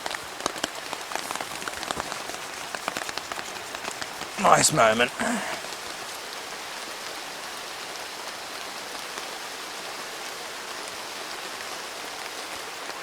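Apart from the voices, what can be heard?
rain falling in the rainforest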